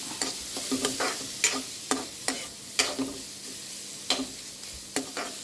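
Carrot upma made with grated carrot cooks in a pan, a soft low sizzle under a run of sharp spoon scrapes and taps that land every half second or so, fairly quiet, with no talking.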